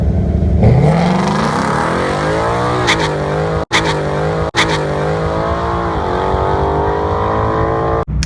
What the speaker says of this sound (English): The car just kind of chirped, and it just jerked a little bit